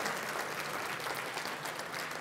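Steady, dense applause from a gala dinner audience, a continuous wash of clapping at moderate distance with no talking over it.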